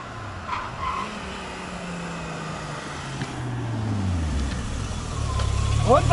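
A VW Golf 3 VR6 turbo engine of nearly 500 hp runs and revs, its drone rising and falling and growing louder toward the end, with tire noise and some talk in the background.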